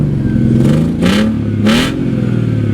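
BMW 325xi E46 with a new exhaust revs twice in quick bursts over a steady idle, each rise sharp and loud before dropping back, close to the car.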